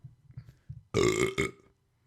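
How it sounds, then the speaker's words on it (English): A single loud, close burp from a person rumbles for about three-quarters of a second after a few faint low sounds, then fades to quiet. "almost as weak as that burp"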